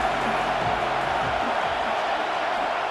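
Football stadium crowd at a college game roaring on a big third down, a dense, constant wall of cheering and noise that holds at an even loudness throughout.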